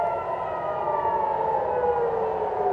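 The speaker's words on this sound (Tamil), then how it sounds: "இஸ்ரேல்ல சைரன் தொடர்ந்து ஒலித்ததால மக்கள் பீதி அடைஞ்சிட்டாங்க." Civil defense air raid sirens sounding in Israel, a steady wailing tone that slowly falls in pitch, heard at a distance with no voices over it.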